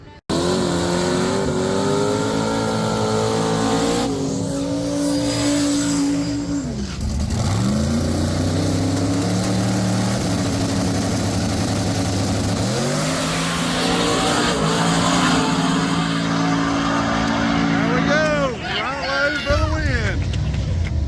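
Turbocharged race car engines roar and rev continuously in street racing finals, pitch climbing and dropping through gear shifts, loud and close, with an announcer-like voice talking underneath.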